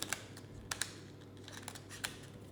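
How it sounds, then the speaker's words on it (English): A deck of playing cards is riffle shuffled, giving a few quiet, sharp flicking clicks and short ripples close by in a quiet room, with no talking. "So this is the riffle shuffle, in which I make sure that the cards are really shuffled."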